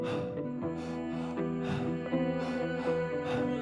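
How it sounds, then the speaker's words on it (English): Three-part breath through the open mouth, a belly then chest inhale followed by an exhale, repeated breathy bursts close by over continuous background music. "And a 3-part breath is a 2-part inhale."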